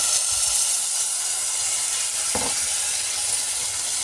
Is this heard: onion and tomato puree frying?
yes